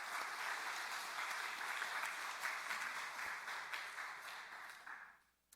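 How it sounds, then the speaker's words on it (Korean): A church congregation claps for the worship team in a Korean Sunday service, a dense, even round of applause that holds steady and then tapers off at the end. "찬양팀을 위해서도 축복하고 격려하는 박수 하겠습니다"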